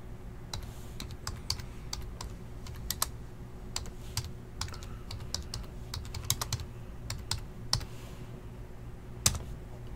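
Typing on a computer keyboard, irregular bursts of light clicking keystrokes, close but quiet, over a faint steady hum with no talking.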